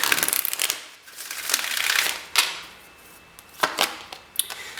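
Tarot cards riffle and slap together in several quick bursts, crisp papery shuffling sounds close by with short pauses between.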